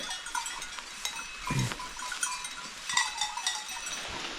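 Goats grazing on a mountainside bleat faintly in an open outdoor setting, with scattered rustling and a soft animal call in the middle; no talking.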